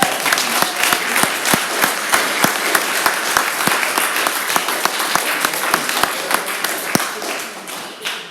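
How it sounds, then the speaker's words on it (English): An audience claps for the guest speakers at an evening political talk in East Kilbride, giving sustained, dense applause with a few sharp, distinct claps standing out above the crowd, before it tapers off near the end. "Round of applause."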